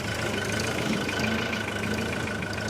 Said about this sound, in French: Voilà mon nouveau tracteur tondeuse.